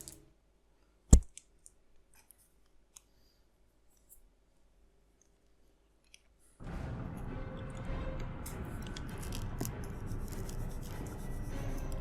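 Sharp mouse clicks while playing Heavy Rain: one loud click early on, then sparse faint ticks in near silence, before a dense wash of game sound fills the rest.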